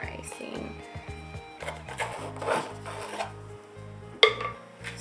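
Soft rasping scrape of a cake scraper smoothing icing around a naked cake as it turns, with repeated light rubbing strokes and a sharper knock near the end.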